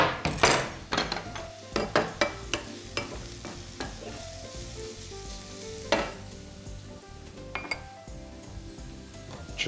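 Peppers, carrots and garlic fry in a pan with a constant close sizzle, punctuated by repeated scraping stirs and metallic clinks of a utensil against the pan, busiest in the first few seconds.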